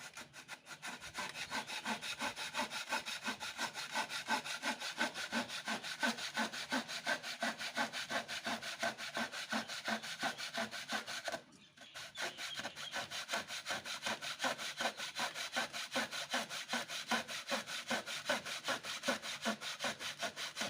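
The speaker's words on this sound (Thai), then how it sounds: "ไม่ธรรมดานะเนี่เลื่อยไม้เนี่ย" A hand saw rasps through wood in a fast, steady back-and-forth rhythm, cutting pieces for a shelf, pausing briefly midway before resuming the same brisk strokes.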